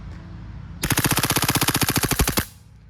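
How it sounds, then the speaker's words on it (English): GHM9G airsoft gun firing a single full-auto burst of about twenty rapid, evenly spaced cracks lasting under two seconds, loud and close, with a faint echo tail and no talking. "let's test out the full auto capabilities here"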